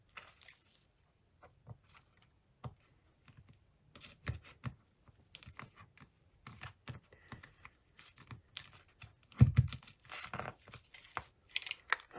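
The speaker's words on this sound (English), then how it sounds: "I shall just cut a small piece off the end and start mixing" Two-part putty cut from its wrapping and kneaded together by hand, heard as a string of close, soft crinkling, tearing and squishing bursts with short quiet gaps.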